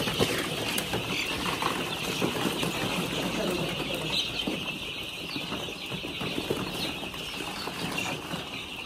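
One-month-old chicks chirping in a group, a dense, continuous patter of small peeps and rustling at moderate distance, fairly faint and without talk.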